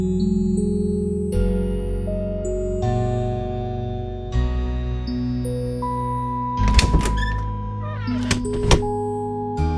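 A cat meows several times in the fantasy adventure game Heroine's Quest, the calls clear and fairly close above sustained game music, with a few thuds and no talking.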